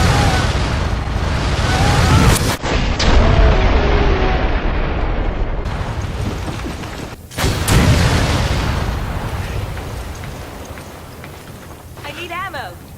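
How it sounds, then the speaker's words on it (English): Rocket launcher blasts and heavy explosions from Resident Evil 5 gameplay, loud booming bursts with broad rumbling decay, sharp transients near 2.5 and 7.4 seconds, dense layered combat noise throughout. "That's the best way I can do it when it comes to the rocket launcher."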